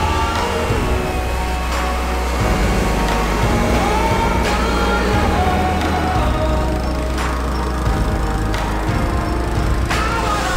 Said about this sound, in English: I'll get out my dethatcher, try to thin this out enough that I can get a clean, nice mow